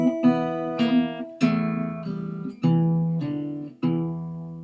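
Short fingerpicked blues phrase on guitar with pull-offs and a pinched bass-and-treble note, several distinct plucked attacks ringing out clearly and alone.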